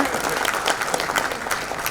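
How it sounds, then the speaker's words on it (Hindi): Steady applause from a large audience at a spiritual discourse gathering in Bhiwani, a dense continuous patter of many hands clapping at even loudness throughout. "तो एक जोरदार तालियां भिवानी के लोगों को।"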